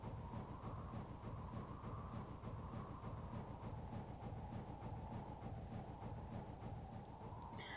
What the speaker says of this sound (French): la loco là, elle monte à 260 max